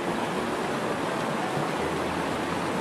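Water flowing steadily in a stream or small cascade, a loud, continuous broadband rush that holds constant throughout with no talk.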